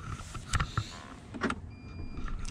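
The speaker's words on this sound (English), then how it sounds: "remotely open and close the doors" A Volkswagen ID. Buzz's powered sliding door motor whirs briefly with soft mechanical clunks, close and quiet.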